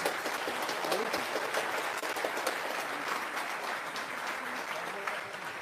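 A church audience breaks into sustained applause for a miracle, a dense, steady wash of many hands clapping that fills the whole stretch, with a murmur of voices mixed underneath.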